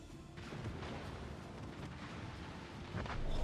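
Naval HE shell salvos boom and rumble in a World of Warships match, a low continuous barrage of gunfire with a heavier burst near the end, with no voices.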